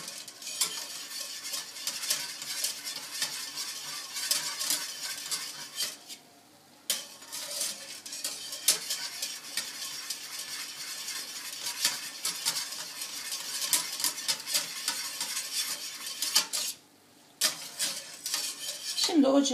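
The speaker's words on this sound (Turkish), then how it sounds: "İyice karıştıralım. Topaklanma olmasın." A utensil scraping and clinking steadily around a pot of chocolate sauce mixture for baby-biscuit cake, close and continuous with faint sizzling, pausing briefly twice.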